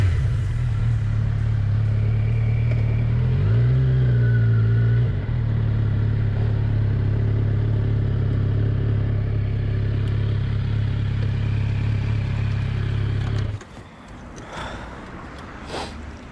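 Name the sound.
Kawasaki Z900 four-cylinder motorcycle engine riding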